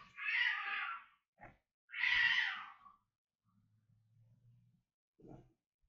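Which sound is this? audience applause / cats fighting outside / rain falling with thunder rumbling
cats fighting outside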